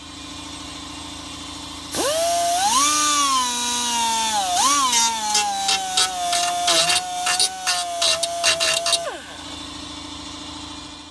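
A power tool grinds on the instrument cluster of a 1965 Mustang GT, rising to a steady high whine for about seven seconds and pulsing with short bursts near the end before cutting off.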